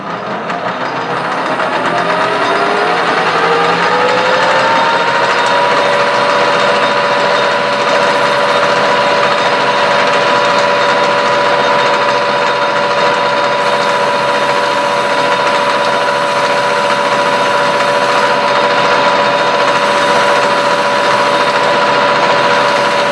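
A metal lathe cuts a recessed bore for a Hemingway spherical ball turner, a loud steady whine with a pitch that rises over the first few seconds, then holds a sustained tone alone.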